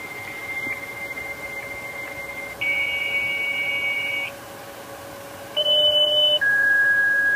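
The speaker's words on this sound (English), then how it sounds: "You can hear some modem sounds are being emitted right now." A dial-up modem answers a call to a Shiva LanRover/E Plus remote access server, producing steady held tones that shift in pitch, then a burst of scratchy handshake noise, all with no talking.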